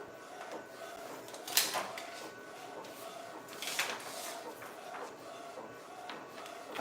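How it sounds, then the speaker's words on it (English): A printer runs while printing custom graduation t-shirts, giving a steady mechanical whir and hum with a couple of sharper clacks, close and fairly quiet throughout. "I'm making custom shirts for a customer of mine, printing graduation t-shirts."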